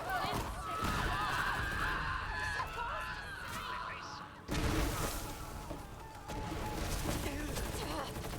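Gunfire in Borderlands 3, with repeated bursts of shots and crackling impacts across a busy, loud battle, running under someone talking throughout.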